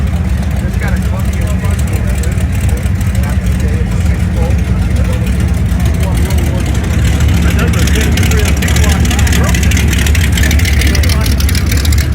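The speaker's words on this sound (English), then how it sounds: "A lot of great flathead ideas. Supercharged flatty here." A supercharged flathead hot rod engine runs at the Bonneville Speed Week gathering at the Nugget Casino. It gives a steady, low idling rumble that sits under loud, continuous talk and crowd noise.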